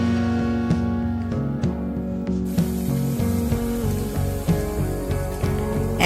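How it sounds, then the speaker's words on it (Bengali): Young bottle gourd leaves frying in oil in a pan, a continuous loud hissing sizzle close up, steady and unbroken over a low background hum, with nobody talking. "তেলের সাথে ভালো করে ফ্রাই করে নিতে হবে"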